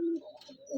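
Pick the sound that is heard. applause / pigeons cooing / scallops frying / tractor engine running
pigeons cooing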